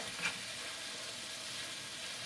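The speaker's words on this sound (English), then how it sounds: "So we'll just keep turning this as we're cooking." Cabbage stir-frying in a pan for a vegetable stir fry, a continuous even sizzle held close and fairly loud, with one brief scrape of turning near the start.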